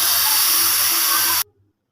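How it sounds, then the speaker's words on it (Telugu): Steam hissing out as a pressure cooker is vented after two whistles with carrot chicken curry inside; a loud, steady broadband rush for about a second and a half, then it cuts off abruptly into quiet. "ప్రెజర్ తీసి చూద్దాం"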